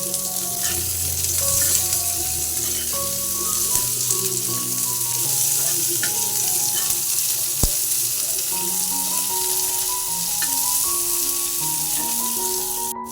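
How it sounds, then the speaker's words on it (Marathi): Onion browns in a little oil on a griddle for a home-style village chicken curry, giving a steady close sizzle and crackle throughout, with faint tonal music beneath. "तर कांदा थोड्याशा तेलावर आपल्याला लालसर भाजून घ्यायचा आहे."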